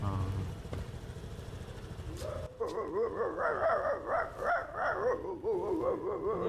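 A man imitates a dog, giving yappy barks and whiny whimpers in a wavering voice, loud and close, following a short stretch of muffled background sound.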